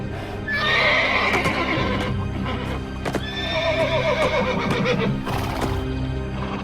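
A panicked stallion, the ancient horse Bucephalus, whinnies and neighs loudly and repeatedly at close range, with clip-clopping hooves stamping beneath the cries and no talk.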